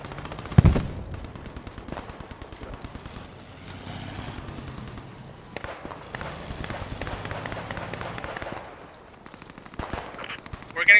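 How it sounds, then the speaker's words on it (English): Scattered, fairly faint gunfire in the WWII shooter Post Scriptum on the Alamo map, with distant rattling bursts and isolated shots spread over a quiet background. Voices talk under it at times. "We're getting shot from the north"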